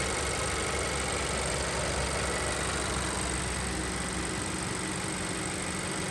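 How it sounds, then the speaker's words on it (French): A 2020 Honda Civic Si sedan turbo engine idling with the bonnet open, a steady, even hum close by with a faint fast ticking from the injectors layered over it, continuous and unchanging, with no voices. "Ce que vous entendez, le petit clic, c'est les injecteurs"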